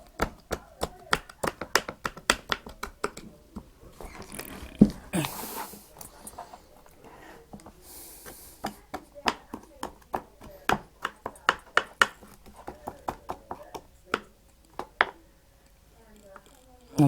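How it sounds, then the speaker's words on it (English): A knife chopping spring onion and tomatoes on a board, a steady run of crisp, close taps that slows and thins out toward the end, with a short pause partway through. "I'm just going to try and chop this"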